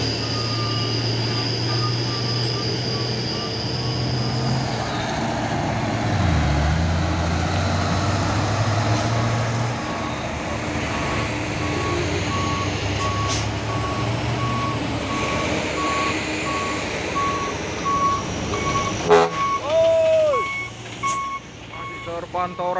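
Heavy trailer truck engines labour up a steep uphill road, a loud, steady low drone with reversing beeps and a shifting engine note over the top, and voices talking in the background.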